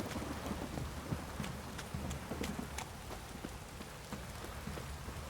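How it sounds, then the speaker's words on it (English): Heavy rain in The Witcher 3 video game pattering steadily on surfaces, fairly quiet, with scattered sharper drop hits and a low rumble underneath. "This downpour's a bastard, it is."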